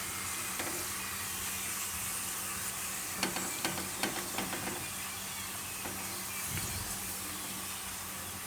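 A roti topped with garlic and cheese cooks on a hot tawa over a low gas flame, giving a soft, steady sizzle with a few light taps and scrapes.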